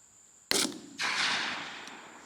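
One sharp, close rifle shot fired during a hog hunt cracks loudly and is followed by a long, decaying echo rolling across open country.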